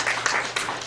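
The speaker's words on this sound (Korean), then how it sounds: "이야 박수 한번 칩시다." A short burst of applause from a church congregation during a Korean sermon, many hands clapping together at close range, lasting under a second.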